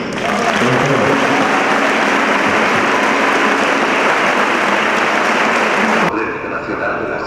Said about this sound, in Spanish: Fuertes los aplausos para nuestro premio nacional